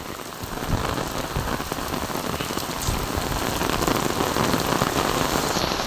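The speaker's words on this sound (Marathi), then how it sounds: "खूप मुसळधार पाऊस चालू आहे" Torrential monsoon rain pours in an unbroken, loud, broadband roar of drops on surfaces, building gently and staying dense from start to finish with no voices.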